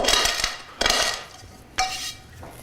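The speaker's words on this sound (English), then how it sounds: "Using the edge of the pan a little bit too to crush them down there." Peppercorns crushed coarsely under the edge of a pan, three sharp scraping, crunching bursts against a hard surface, each trailing off, close and fairly loud with no talk.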